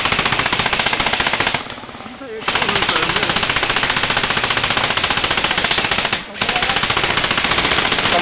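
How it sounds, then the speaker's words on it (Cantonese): Machine gun fire in a shooting video game rattles loud and rapid in long continuous bursts, broken by two short pauses. "咁撚多火仔嘅開槍咧"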